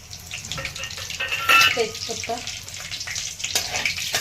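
Cumin seeds, cloves and black peppercorns sizzle in hot oil for a Maharashtrian dhaba-style dum aloo, a close, steady crackling hiss with occasional spoon clinks and a voice talking over it.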